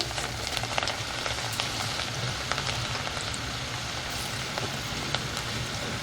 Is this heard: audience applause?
no